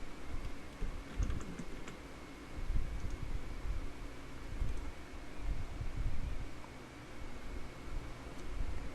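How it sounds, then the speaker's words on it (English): Computer keyboard typing a username and password, a steady run of soft, fairly quiet key clicks close by, with no talking. "Type your Gmail username and password."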